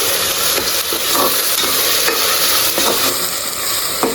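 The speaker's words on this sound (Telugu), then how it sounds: "2 స్పూన్ అల్లం వెల్లుల్లి పేస్ట్ పచ్చివాసన పోయేంత వరకు వేసుకున్నాము" Two spoons of ginger garlic paste fry in a pan for mutton paya, a dense loud sizzle with repeated stirring scrapes running throughout, no voices.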